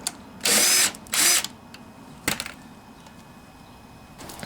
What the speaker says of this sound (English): And this is a 9/32 socket to get these other ones out.